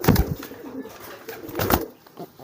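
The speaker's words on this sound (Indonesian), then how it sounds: "untuk merpati kolong ini giringnya keras karena sudah ya lumayan dapat umur" Pigeons of the kolong type, older birds in courtship, give deep cooing calls in two loud close bursts separated by a pause, with some rustling between them.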